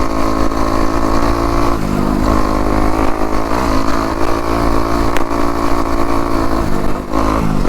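A homemade electric dirt bike ridden hard with the front wheel lifting into a small wheelie, giving a loud, steady motor drone with drivetrain whine and rattle that holds throughout, close by and with no talk over it.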